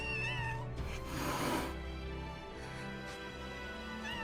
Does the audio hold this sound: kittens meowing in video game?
yes